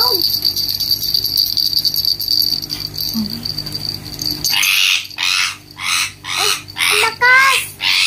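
A large caged bird gives a run of loud, harsh rhythmic calls at close range, several bursts in quick succession, after a quieter stretch of low background noise and faint chirps.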